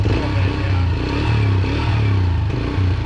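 A Yamaha TT-R125 dirt bike engine runs steadily with a loud, throbbing low drone and rattly mechanical clatter, with small swells in revs as it idles rough while cold and smoking.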